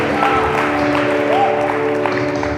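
A church congregation claps during a Sunday morning service, a dense, steady patter of many hands layered over sustained music tones that carry on through the whole stretch.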